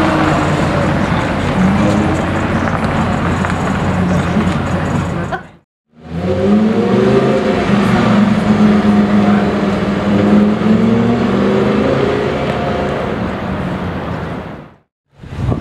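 Ferrari 812 GTS V12 engine revving loudly near the Gumball 2022 rally start, a strong sustained roar with rising pitch sweeps, briefly cut by two silent gaps.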